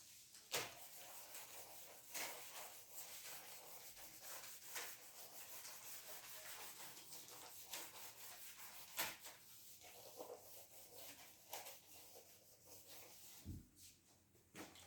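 Writing is rubbed out on a board in a steady, faint, continuous scrubbing that runs for the whole stretch, with occasional knocks and no one speaking.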